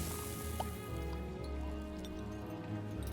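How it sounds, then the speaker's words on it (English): Milk bubbling like lava in the video game World of Goo 2, a low continuous gurgling and squishy liquid churn with small drip-like pops, fairly faint and steady throughout. "Why does the milk sound like that? Does it sound like bubbling lava?"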